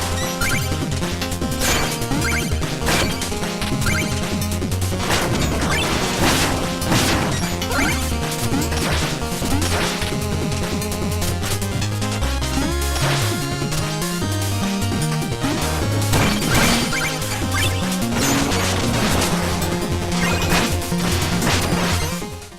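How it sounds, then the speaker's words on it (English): Level music from the video game Shovel Knight plays loud and continuous throughout, a dense, busy chiptune-style track with steady driving percussion and no talking over it. "I'm going to be quiet for a minute and let you guys hear it because it's really good."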